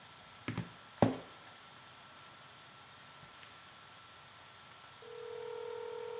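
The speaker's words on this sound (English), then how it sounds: "You can probably hear the phone ring and the whole discussion." An outgoing phone call is placed: a couple of sharp clicks and taps, then a steady electronic ringback tone comes in and holds, faint and thin against a quiet room.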